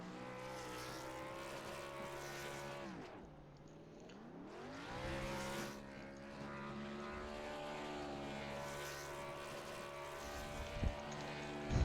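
A stock car in a NASCAR Xfinity racing video game doing burnouts at Talladega gives a loud, continuous engine roar whose pitch drops away and then climbs back up as it revs, with no voices.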